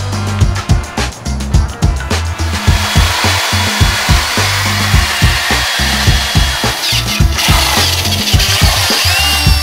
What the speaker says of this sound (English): I'm drilling holes through my mold so I can bolt it together like this.